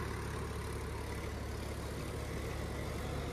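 A Sonalika 745 tractor engine roars steadily under heavy load in a tractor pulling contest, a dense, loud, unbroken drone with no pauses.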